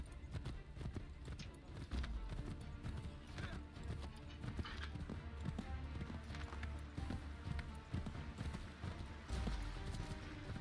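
Rapid hoofbeats clatter continuously as a horse gallops in the video game Assassin's Creed III, with an occasional whinny, a steady rhythmic pounding throughout.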